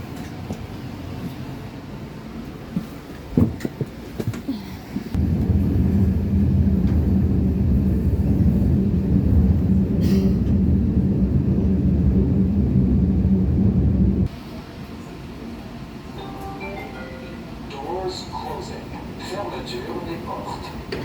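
Low rumbling train noise as a train arrives at a station in Canada swells in for several seconds and then drops away, with people talking in the background.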